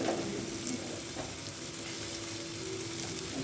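Food frying steadily in a pan for a tomato-and-egg tarka, a continuous close sizzle with a faint steady hum beneath and no talk.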